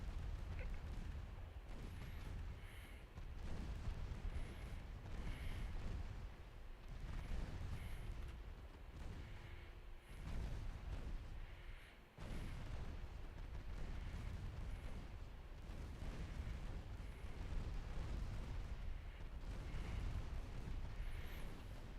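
Warship naval guns in Ultimate Admiral Dreadnoughts fire in repeated muffled booms and rumbles. The sound is faint and continuous, with periodic heavier blasts.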